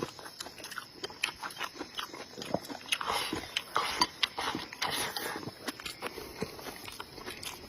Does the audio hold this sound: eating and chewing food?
yes